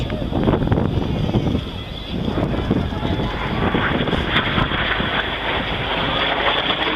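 Red Arrows jets roar through the vertical break at the Leuchars air show, a loud, broad engine rush mixed with heavy wind buffeting, continuous throughout.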